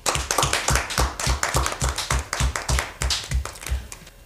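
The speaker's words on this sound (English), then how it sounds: "A round of applause." An audience at a university debate competition claps for the winning team: close, crisp, fairly rhythmic hand claps from a small group, steady for a few seconds with no voices.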